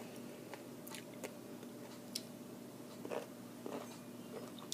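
Crunchy fermented beet is chewed close to the mouth, with sparse irregular crisp crunches and soft squishy bites over a quiet room hum.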